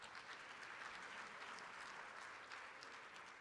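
Steady, dense applause from a crowd, faint and continuous with no break.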